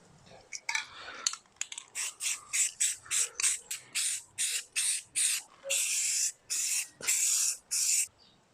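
Spray paint is applied to a 1971 Toyota Celica prop shaft in short, loud bursts of hissing spray, about a dozen evenly spaced puffs with a few longer blasts toward the end.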